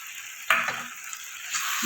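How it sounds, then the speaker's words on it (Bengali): Potatoes and spice powder being stirred in a frying pan for kadai paneer gravy: a sharp scrape and clatter, then soft sizzling under a steady hiss, with another brief scrape near the end. "দিয়ে এবার নাড়াচাড়া করবো"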